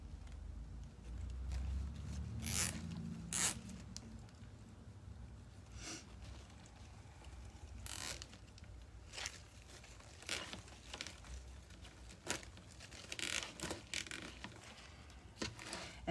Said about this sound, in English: when you think you got it completely zip tied and really secure, give it a couple more ratchets